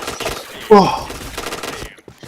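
Rapid bursts of gunfire in the video game Point Blank rattle out loud and close as a dense volley, mixed with game sounds while a person talks over it.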